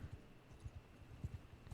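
Horse hooves clip-clop in the Bannerlord video game, a quiet run of soft, low thuds in an uneven rhythm spread across a short stretch, with no talking over them.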